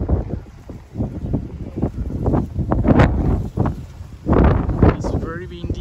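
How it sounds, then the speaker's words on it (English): Strong wind buffets the microphone in loud, irregular gusts on the Wilson Trail in Tai Tam Country Park, rumbling and roaring with brief lulls between blasts. "It's very windy"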